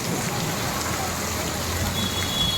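Heavy rain pouring down in Surat makes a steady, loud, unbroken wash of hiss that holds at the same level from start to end, with no clear pauses.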